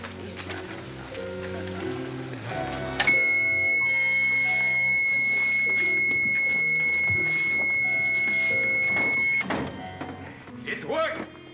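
Supersonic sound weapon effect in a 1960s Batman episode: a steady, piercing high electronic tone that holds for about six seconds over busy dramatic music, cutting off abruptly, with voices heard around it.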